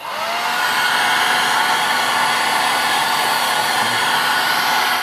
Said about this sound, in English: to further accelerate the drying time, hairdryer, the cheapest hairdryer you can possibly find, comes in really handy for modeling